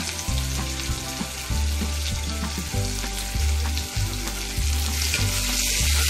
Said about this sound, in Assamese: মাছটো দিয়াৰ পিছত আমি অলপ দেৰি পিঁয়াজটো অলপ ভজালৈকে ৰখাম।